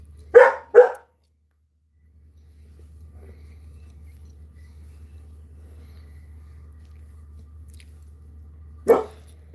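A Yorkshire Terrier gives two quick sharp barks close by, then a long stretch of low steady hum before one more single bark near the end.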